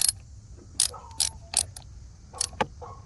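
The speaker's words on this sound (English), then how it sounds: "push it all the way down, and tighten it up with a 10mm socket" A 10mm socket on a ratchet wrench tightens the negative battery terminal on a 2009 Hyundai Elantra: several short, close metallic clicking bursts with brief gaps between them, and a faint squeak or two.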